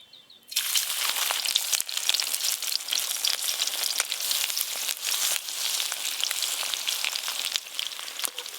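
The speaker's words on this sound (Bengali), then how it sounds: "এবার সাকি চুনো মাছের বড়াগুলো ভেজে নেব।" Small chuno fish fritters dropped into hot mustard oil in a kadai burst into a loud, dense sizzle that starts suddenly and crackles on steadily close by, with faint stirring and no voices.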